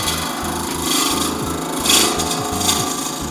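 A spindle gouge cuts resin on a spinning lathe, giving a steady loud rasping drone with a rhythmic low pulsing from the rotating blank, swelling slightly as the tool bites deeper.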